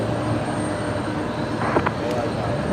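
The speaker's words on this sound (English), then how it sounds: "We got another Link Airways Saab coming in from Dubbo here, runway 19 left" A Link Airways Saab airliner arriving on runway 19 left at Brisbane Airport: a steady, fairly loud turboprop engine drone that holds throughout, with faint voices underneath.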